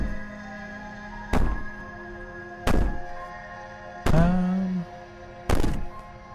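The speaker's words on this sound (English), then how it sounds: "Bang on the door all you want." Heavy fists banging on a door in the video game Slay the Princess, four loud, separate thuds spaced about a second and a half apart, each with a short boomy tail over a low ambient drone.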